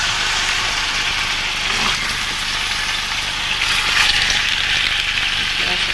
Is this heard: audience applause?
no